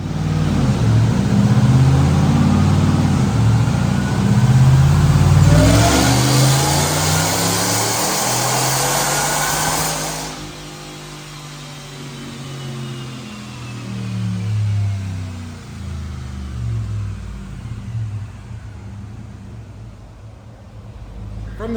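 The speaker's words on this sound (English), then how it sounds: "Check out this dyno pull." A supercharged 4.6-litre V8 in a 2006 Ford Explorer roars steadily at high revs on a dyno, then drops to a lower throbbing rumble and builds again, loud and close.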